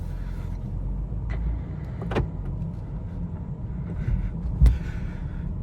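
A 2023 BMW 330i pulling away, heard from inside the cabin as a steady low engine and road rumble with a couple of brief clicks and knocks and no talking.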